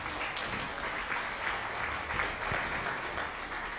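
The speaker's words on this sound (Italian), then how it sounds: "Applausi." Video game applause: steady, dense clapping, a continuous crowd-like patter at moderate level with no break through the whole stretch.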